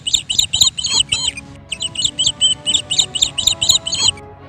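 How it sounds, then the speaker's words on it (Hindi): Small bird chirping loudly and rapidly beside a house window, repeated bright tweets in quick bursts with a short pause midway, close and clear over a faint low background. "एक दिन चिड़िया ने घर की खिड़की के पास आकर जोर से चहचहाया।"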